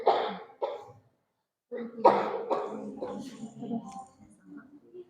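A few harsh coughs close to the mic, a pause, then more coughing mixed with throaty sounds and brief talk.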